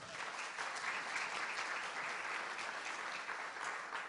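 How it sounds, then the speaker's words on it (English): An audience applauds steadily throughout, a dense, even clatter of many hands clapping with no speech over it. "Round of applause for Steve Revo, our producer."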